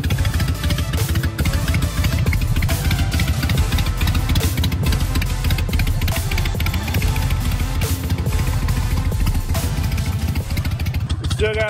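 A Harley-Davidson Sportster motorcycle engine idling as it warms up, a loud, steady, close rumble with a lumpy beat and mechanical clatter that continues throughout.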